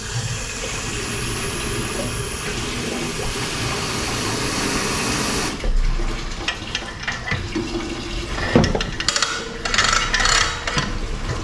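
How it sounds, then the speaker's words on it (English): Coolant drains from a Chrysler Pacifica into a bucket: a steady rushing pour of liquid for several seconds, then a shift to irregular splashing and trickling with clunks nearby. "we can hear that below draining into our bucket"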